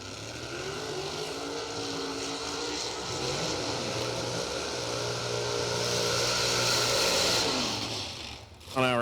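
A 632 cubic inch Escort drag car at a street-car nationals event holds a loud, sustained high-rev engine roar with wavering pitch, swelling toward the end before briefly dropping off, while a voice talks faintly underneath.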